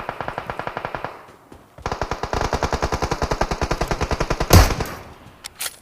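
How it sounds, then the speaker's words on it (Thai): Rapid automatic gunfire rattles in the mobile battle royale game PUBG Mobile, two close, loud bursts of evenly spaced shots, the second longer and ending in a heavier blast, followed by a few scattered single shots. "มันยิงกันแล้ว"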